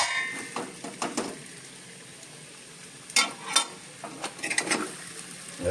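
Potatoes stirred with a ghee tempering in a pan for sabudana khichdi: a soft background sizzle broken by scattered scraping and clattering strokes of the spoon, busiest near the start and again in the second half.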